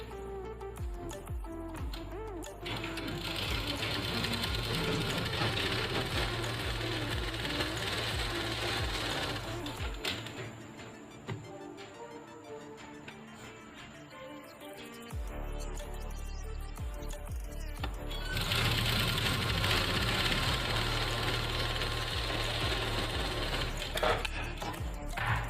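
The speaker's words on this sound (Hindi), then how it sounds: "और इस पे सीधी सिलाई लगाएंगे।" An electric sewing machine runs straight stitching along a blouse seam in long, loud whirring bursts, stopping for a few seconds midway before starting again and running steadily to the end.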